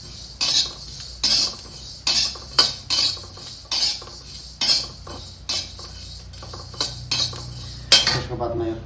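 A metal spoon scrapes and taps against a pan while cumin seeds are dry-roasted over low heat for Newari buff pickle, giving repeated sharp clinks and scrapes in an uneven rhythm, close and clear, with a faint low hum underneath.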